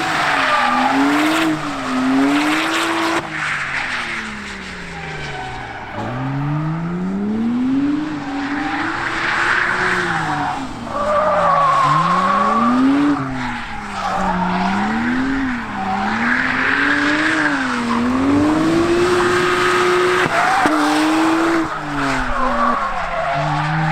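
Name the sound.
car drifting on race circuit, Nissan SR20 engine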